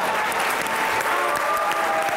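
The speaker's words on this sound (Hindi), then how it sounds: "तालियां बजनी चाहिए।" An audience claps steadily and warmly after a recited poem on a Hasna Mana Hai comedy talk show, a continuous wash of applause with faint voices underneath.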